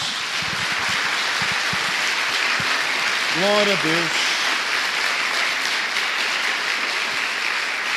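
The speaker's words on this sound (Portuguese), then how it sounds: "Dê uma salva de palmas a Jesus." Sustained applause fills a church as the congregation claps in a thick, even roar. A voice briefly speaks over it midway.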